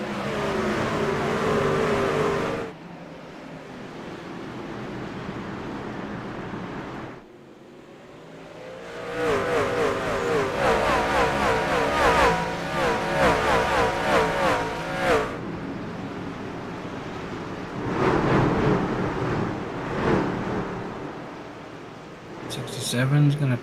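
Video-game racing truck engines at Martinsville roar and rev in repeated surges, rising and dropping in pitch, with an announcer talking over them throughout.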